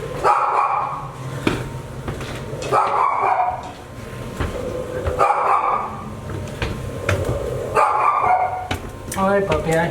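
A puppy barks repeatedly indoors in a house, a steady series of sharp yaps close by, with people talking at the same time.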